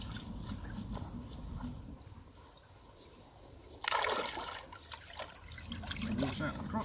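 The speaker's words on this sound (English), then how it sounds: "So water out my crocs." Water splashes and trickles out of a pair of Crocs shoes beside a swimming pool, a brief louder gush at mid-clip followed by dribbling, with soft background noise throughout.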